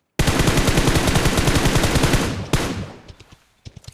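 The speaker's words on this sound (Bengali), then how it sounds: "ওই ফায়ার হলো রে" Rapid automatic gunfire in a video game, a loud close burst of evenly spaced shots lasting over two seconds, then a sharp shot, a few fading reports and one more short burst.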